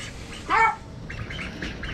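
Ducks outside at dusk before a storm, one loud close quack followed by softer scattered squawks and calls in the background.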